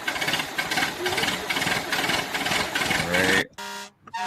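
A loud, rumbling engine roars steadily with harsh, buzzing layers for several seconds, then cuts out abruptly into short tonal bursts near the end.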